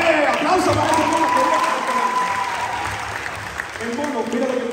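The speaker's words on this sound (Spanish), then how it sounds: "¡Aplauso para ese mono!" Youth conference audience applauding in a church hall, loud, dense clapping that fades slightly while a voice and a sustained tone run underneath.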